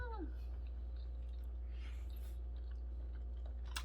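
A peeled boiled egg dipped lightly in salt is chewed close to the microphone: soft, moist chewing with faint squishy bites in a quiet room.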